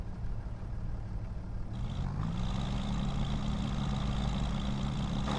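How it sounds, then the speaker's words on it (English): A Mercedes-Benz truck engine idles in Farming Simulator 25, a steady low rumble held at an even level, with the tone rising slightly partway through and continuing alone with no voices. "I absolutely love the engine sound."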